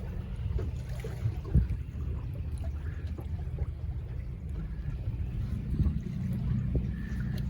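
Steady wind buffets a small fishing boat anchored off the Suffolk coast on a cold, misty spring day, a continuous low rumble with water slapping against the hull and a few brief knocks.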